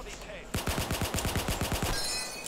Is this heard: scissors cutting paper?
no